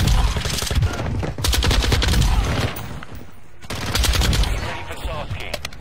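Lachmann 762 rifle hip-fired in Modern Warfare 2, heard as loud, sustained rapid-fire bursts close up with only brief dips between strings of shots.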